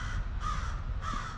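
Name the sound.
crows cawing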